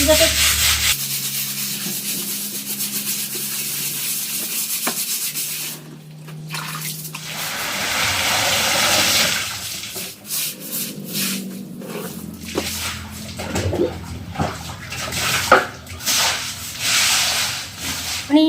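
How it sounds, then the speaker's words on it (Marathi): A kitchen counter is scrubbed during a household deep clean, with repeated rough rubbing strokes broken by a pause, then more uneven scrubbing and brief splashes of water. "आता हे पण घासून घेते"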